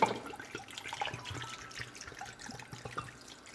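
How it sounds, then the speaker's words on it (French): Water poured from a wine bottle into a cooking pot, a soft continuous trickle and splash with faint drips, fairly quiet and alone. "Maintenant on va rajouter de l'eau."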